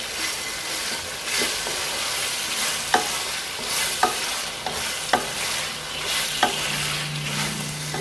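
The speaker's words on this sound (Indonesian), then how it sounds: "Tumis hingga wangi, dan masukkan jengkol yang telah digeprek" Crushed jengkol sautés in a pan, a steady sizzle broken by several sharp spatula knocks and scrapes, close and with no voices.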